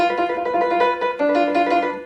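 Piano notes played on an acoustic piano without the sustain pedal, a steady run of separate, detached tones, each note stopping short rather than ringing on, close and fairly loud with no talking.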